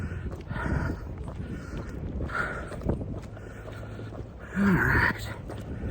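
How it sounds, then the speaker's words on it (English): Wind buffets a microphone outdoors on a walk with a guide dog in training, rough low rumbling gusts swelling near the end, with a brief spoken remark. "Oh man, that wind."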